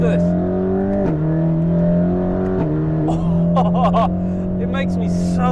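A Mercedes-AMG GT Black Series in Sport mode holds a loud, steady exhaust drone, with two brief dips as gears shift and a raspy burble rising near the end, while someone talks over it.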